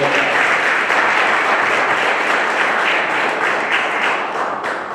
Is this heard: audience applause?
yes